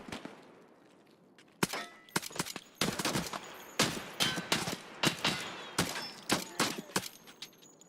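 Pistol fire in Escape from Tarkov sounds as a string of sharp, loud shots, single at first and then faster and more irregular. The cracks echo close by over a quiet background for several seconds.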